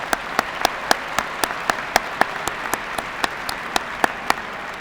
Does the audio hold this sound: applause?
yes